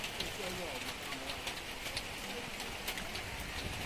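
Rain falls steadily at an elephant camp coffee shop in Chiang Mai, a constant soft patter with faint scattered drops standing out over the even hiss.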